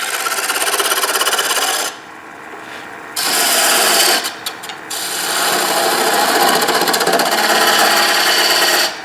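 An all-purpose bowl gouge cuts a wooden vase on a lathe, giving a loud continuous scraping, rasping whir with brief drops where the tool lifts off before the steady cut resumes.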